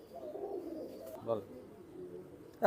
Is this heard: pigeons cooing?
yes